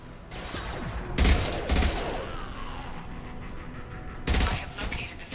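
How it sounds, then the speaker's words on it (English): Impact shots fired in a sci-fi video game come as several sharp, loud blasts in irregular bursts over a steady mechanical rumble, with some talk in between. "Firing an impact shot."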